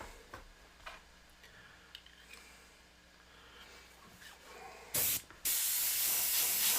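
An airbrush sprays thin paint in two bursts of loud hiss. One is short, and the second is longer and steady. Faint ticking and quiet room noise come before them.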